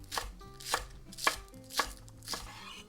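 A knife chops scallions on a cutting board, five distinct crisp thuds evenly spaced about half a second apart, close and clear with nothing else audible.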